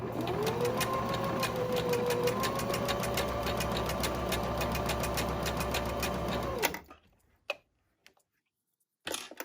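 A sewing machine stitching a silk tote bag, running at a slow, steady pace with a rapid rhythmic needle clatter close up, then stopping abruptly, followed by a few faint handling clicks and a brief last burst.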